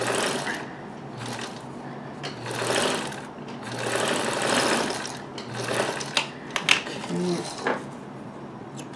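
A Necchi Supernova sewing machine running a straight stitch with the straight stitch foot in left position, steady bursts of rapid mechanical chatter that speed up and pause, with a few clicks and a brief voice near the end.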